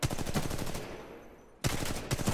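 Rapid bursts from the LMG light machine gun in Titanfall 2 pound out loud and close, pausing briefly mid-clip before the chattering fire resumes.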